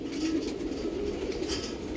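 Pet pigeons of a prized homing bloodline kept at a house, giving a low, steady cooing murmur close by with no voices.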